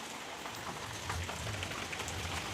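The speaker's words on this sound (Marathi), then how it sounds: "बाहेर इतका पाऊस चालू आहे" Heavy rain pours steadily outdoors, a dense, constant hiss of drops drumming on surfaces with no voices.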